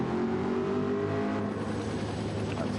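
Race car engine revving steadily and loud throughout, a constant dense drone with slight pitch shifts, from a Gran Turismo-style street-to-track race of MARC Cars at Catalunya.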